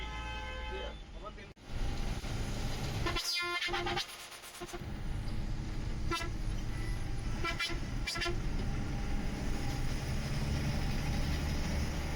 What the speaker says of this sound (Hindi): अब 11 बजे का टाइम है तो दिल्ली की सड़कों में ट्रैफिक तो होगा ही